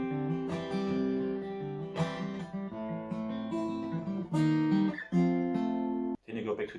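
A guitar plays a verse chord sequence from a song: sustained strummed chords shifting in steps, with sharp attacks, a brief break near the end, and close, fairly loud sound with no talking over it.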